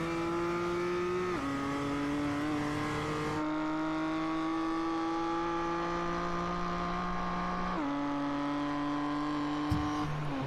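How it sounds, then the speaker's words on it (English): A BMW race car on the Sebring circuit in iRacing drones with a steady, loud engine note whose pitch drops in distinct steps as it downshifts into second gear at the turn 7 hairpin, then rises again. "Down into second gear he goes at the turn 7 hairpin"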